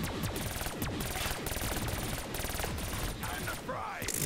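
Dense, rapid video game gunfire pours out at zombies in a loud barrage of cracking shots, nearly continuous with a few short gaps and a swooping effect near the end.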